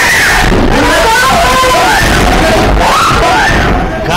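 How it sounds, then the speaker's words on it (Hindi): Frantic screaming and shouting fill a house as a married woman is kidnapped by strongmen who arrived in two vehicles; loud, chaotic wailing voices overlap in a dense, noisy din throughout. "घर में मची चीख पुकार ही आपके रोंगटे खड़े कर देगी।"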